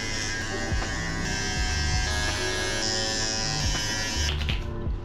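An electric razor buzzes steadily while shaving body hair, close and loud, with its pitch shifting slightly as it moves over the skin before cutting off at the end.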